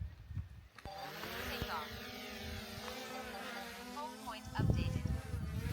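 A small DJI Mini Pro drone takes off with a thin buzzing whine that rises in pitch as the rotors spin up, then holds a steady hover drone. It sounds faint and distant, with a low rumble of wind at the end.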